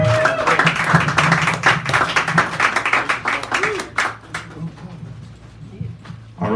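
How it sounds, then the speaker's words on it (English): An audience at a poetry reading in Sacred Grounds Cafe, San Francisco, claps in a dense burst of applause that gradually thins out, heard under an announcer's talk. "Give him a round of applause, lady,"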